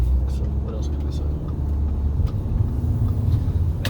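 A 2009 Audi A4 cruises at night with a steady low road rumble and engine drone from inside the cabin, with faint ticks and creaks over the continuous tire noise.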